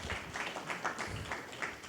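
Scattered clapping from an audience, fairly faint and brief, a light patter of hands without voices.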